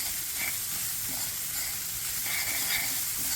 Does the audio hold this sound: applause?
no